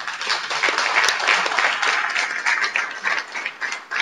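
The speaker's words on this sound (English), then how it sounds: "Please join me to also give Margareta a big applause." An audience applauds for Margareta at a welcome speech, a moderate continuous clatter of clapping hands lasting the full few seconds without voices.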